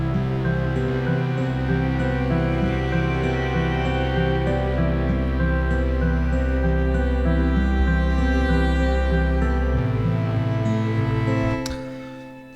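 Acoustic guitar melody played through an equalizer as main menu music for the video game VEIN, sustained tonal notes over a steady bed, loud and continuous, thinning out near the end.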